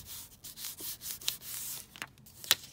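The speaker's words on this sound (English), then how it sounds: "put the napkin on, squish it with the acetate" Napkin being pressed flat under an acetate sheet during a Christmas papercraft session, a run of close, soft rubbing and crinkling strokes with a few sharper plastic crackles, quiet and with no talking.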